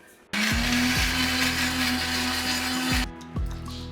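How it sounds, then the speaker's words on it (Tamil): Electric mixer grinder whirring as it grinds ginger and garlic into paste, a loud steady high-pitched motor drone that starts abruptly, runs about three seconds, then cuts off and winds down. "இஞ்சி பூண்டு பேஸ்ட்டும் அரைச்சிட்டேன்."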